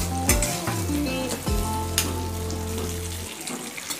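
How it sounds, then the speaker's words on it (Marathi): Chopped onion sizzling loudly in butter and a little oil in a kadhai for dhaba-style kadhai paneer, with a steady frying hiss, a few clatters of stirring early on, and the sizzle cutting off near the end. "फ्राय करून घ्यायचा आहे बटरवर."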